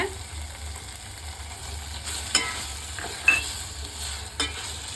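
Onion and tomato sautéing in a pan for wheat sambar, a steady soft sizzle with a few sharp scrapes of a stirring spoon, close and moderately loud with no talking.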